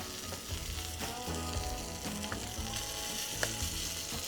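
Egg-battered chile rellenos frying in a shallow pan, a steady close sizzle and crackle of hot oil with occasional louder pops and faint clinks, no talking.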